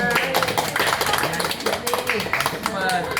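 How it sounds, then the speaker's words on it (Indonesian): A classroom group claps together in a quick, dense burst of hand claps mixed with chatter and voices throughout. "Tepuk tangan."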